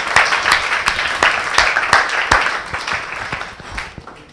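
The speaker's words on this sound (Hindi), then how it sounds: "एक बार तीनों के लिए जोरदार तालियां" Clapping from a kavi sammelan audience in Hindi, a scattered run of individual hand claps with sharp spikes, fairly near and moderately loud, thinning out toward the end with no talk over it.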